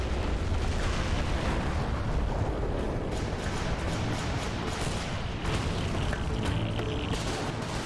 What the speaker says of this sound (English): Dragon tanks are firing at it.